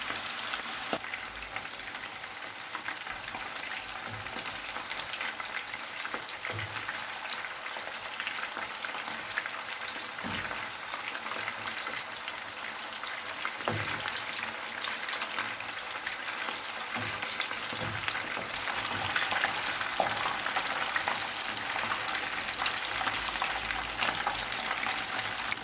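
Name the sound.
beef kofta balls frying in oil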